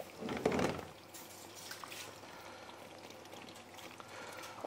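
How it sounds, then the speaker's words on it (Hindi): Hot water pours into a cooking pot of Hyderabadi Qutab Shahi korma in a short, splashy gush, then settles into a soft, steady liquid rumble. No voice is heard. "और यहाँ पे हम डाल रहे हैं गर्म पानी"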